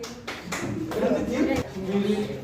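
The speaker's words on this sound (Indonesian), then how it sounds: "tepuk tangan buat kelompok 1" Applause from a classroom audience for a student group after its presentation during a school teaching-practice exam, a burst of hand claps mixed with overlapping chatter and voices.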